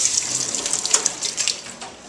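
Water streams from the separate hot-water faucet of a small apartment kitchen sink, a close, steady splashing hiss with slight fluctuations as it hits the basin.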